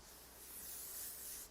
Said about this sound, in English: now I'm going to spray that Orbe shampoo